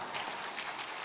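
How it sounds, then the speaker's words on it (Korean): A church congregation at a Sunday morning worship service claps together in a dense, steady wave of applause that fills the whole short moment without a break. "한 번 더 크게 박수해 주십시오."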